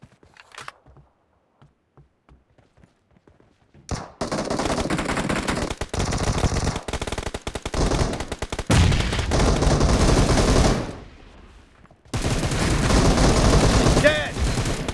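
Dense automatic gunfire from BGMI team deathmatch starts after a few quiet seconds, rattling in loud, continuous bursts, briefly cutting out, then resuming just as heavily.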